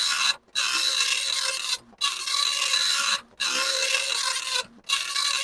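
A Commodore 1526 serial printer runs its self test, its print head rasping across the line in four long scratchy passes, each separated by a brief pause.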